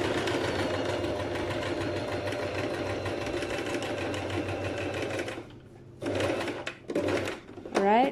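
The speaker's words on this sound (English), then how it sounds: "I'm going to start sewing that area." A sewing machine stitches a sleeve placket in a steady fast hum for about five seconds, then stops and restarts in short bursts, with a person speaking nearby.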